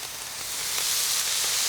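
Smashburger patties sizzle on a hot griddle as they are flipped and topped with cheese, a steady broadband frying hiss that swells slightly and holds without speech.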